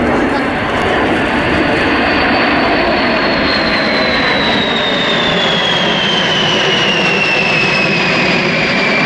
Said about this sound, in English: You have another go at the B-52, the great Buffy.